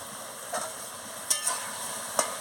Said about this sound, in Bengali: ভালো করে একটু নাড়িয়ে নিচ্ছি।